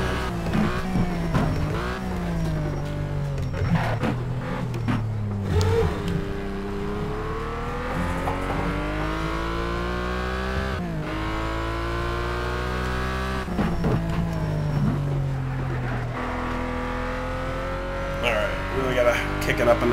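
A race car engine in the Need for Speed Shift 2 Unleashed racing game revs hard and climbs through the gears, its whine rising and then dropping at each shift, with brief throttle lifts for corners throughout the lap.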